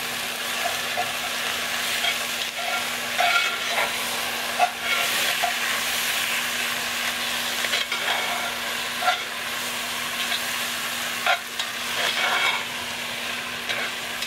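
Chuck steak browns in a hot pot outdoors, with a continuous close sizzle broken by light scrapes and stirring bumps throughout, a faint steady hum beneath, and no voices.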